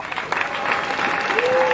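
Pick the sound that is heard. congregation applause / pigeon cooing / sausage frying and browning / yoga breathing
congregation applause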